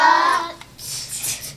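Children in a classroom tap out the sounds of a word during a school board education workshop, giving a short run of soft hand taps after a brief vocal sound, fairly close and moderately loud.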